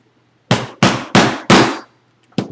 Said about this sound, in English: I'm going to take my little hole punch here, and I'm going to send it through every single layer of leather